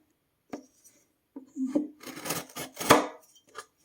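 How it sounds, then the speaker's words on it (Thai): A milk carton is cut at the bottom: a handful of close, crisp snips and crunchy rasping cuts through the waxed cardboard, irregular and loudest toward the end, with quiet gaps between. "เดี๋ยวจะตัดจุกข้างล่างนี่ตัดข้างล่างตัดสองเพราะว่าเวลาเรารดน้ ำ"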